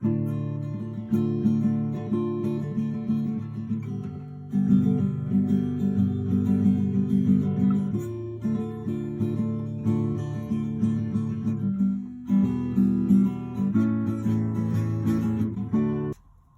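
An acoustic guitar plays a fingerpicked chord progression alone, with notes ringing together as the chords change every few seconds.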